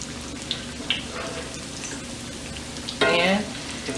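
Salmon patties fry in a cast iron pan with a steady background sizzle, and a louder burst of crackling grease comes near the end; the sound is close and continuous.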